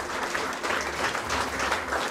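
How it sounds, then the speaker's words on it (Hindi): A classroom audience breaks into dense, steady clapping for a student, the sound close and full without pause, with no talk over it. "जोरदार तालियां"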